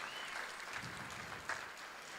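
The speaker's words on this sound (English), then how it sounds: "Give him another round of applause" Distant, faint applause from an audience for a young band performer at a Mule Day liars contest, a soft wash of clapping with a brief sharper burst midway.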